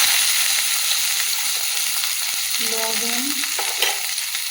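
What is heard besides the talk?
dried chillies, onion and garlic frying in oil in a wok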